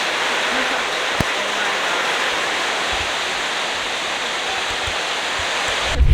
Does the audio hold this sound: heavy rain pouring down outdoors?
yes